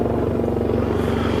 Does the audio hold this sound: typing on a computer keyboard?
no